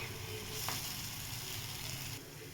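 Masala for a soybean butter masala sizzles steadily as it fries in a pan, a continuous close hiss with one brief stirring scrape partway through.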